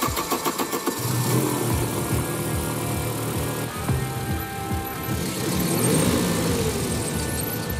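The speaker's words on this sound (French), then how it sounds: "Vince croise les doigts pour que le démarrage moteur se passe sans accroc." A BMW M3 E30 Cabriolet's inline four-cylinder engine cranks briefly, then catches and settles into a steady, close, rumbling run with no talk over it.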